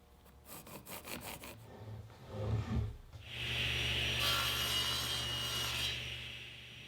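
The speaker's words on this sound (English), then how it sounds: "Once I've got a good fit on the test piece, I'll cut the tenons on the braces." A hand saw cuts tenons on white oak braces, a run of short rhythmic rasping strokes followed by a longer, steadier sawing passage, close and fairly loud with no talking.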